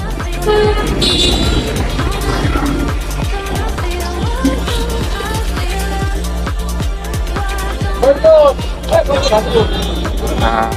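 Busy road traffic heard while crossing a street on foot, with passing engines, repeated short horn toots and crowd babble, and a voice talking over the din.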